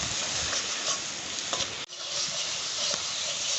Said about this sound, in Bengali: স্বাদ মতো লবণ, দিয়ে আমরা ভালো করে এটাকে কষিয়ে নেব।